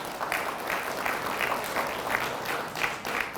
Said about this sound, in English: You should give us a round of applause for that.